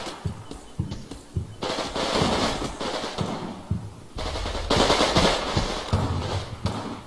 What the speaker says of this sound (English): Lots of submachine gunning